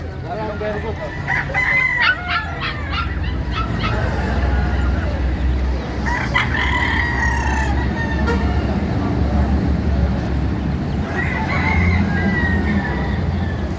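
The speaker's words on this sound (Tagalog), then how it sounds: "native na manok" Native chickens cluck and a rooster crows amid a noisy outdoor crowd in Baliwag, Bulacan, with a steady low rumble and distant chatter throughout.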